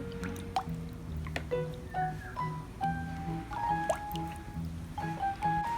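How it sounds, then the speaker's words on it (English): A wet, squishy mixture of edible water beads being stirred, giving soft dripping and plopping sounds at close range in an irregular rhythm. "And then we stir it. Stir, stir."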